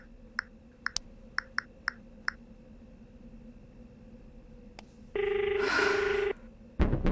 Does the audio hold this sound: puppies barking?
no